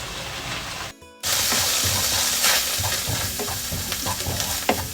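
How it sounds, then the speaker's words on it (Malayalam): Kashmiri chili powder fries in melted butter in a pan for butter chicken, giving a loud, close, steady sizzle with stirring scrapes, broken by one brief drop near the start. "ബട്ടർ നന്നായിട്ട് മെൽറ്റായി വരുമ്പോൾ 2 സ്പൂണ് കാശ്മീരി മുളക് കൂടി ചേർത്ത് കൊടുക്കാം"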